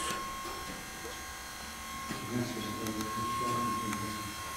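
A church clock's electric motor winding up its weights in the tower of Selby Abbey: a steady, faint mechanical hum with a fixed pitch, joined by some low rattling, with people talking quietly nearby.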